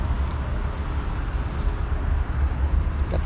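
A 1971 Datsun 240Z with its stock single-outlet exhaust runs steadily, a low, continuous exhaust rumble heard fairly close with no talk over it.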